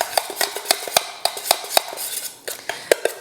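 A utensil scrapes and clinks against a pan as a thickened oyster-extract sauce with spices and potato starch is stirred, a brisk, regular series of sharp metallic taps, close and fairly loud.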